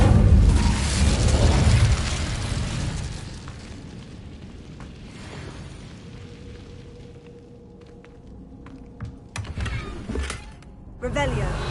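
A fire spell cast in Hogwarts Legacy bursts with a loud whooshing blast at the start, then fades into quieter game ambience with a few brief magical pops and a short tonal hum.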